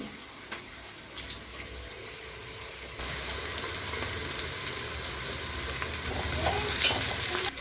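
Onions sizzle and crackle steadily in hot oil with biryani spices, growing a little louder toward the end, with no talking.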